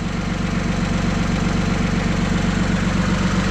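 A roughly 70-horsepower farm tractor engine running under a good load, a steady, loud, low rumbling drone with a regular throbbing pulse, continuous and close.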